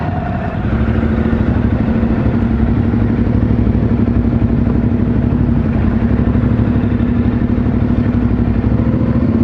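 A Suzuki V-Strom motorcycle rides on a group ride near Peterborough, South Australia, its engine droning loud and steady with heavy wind and road roar the whole way through, and no talk.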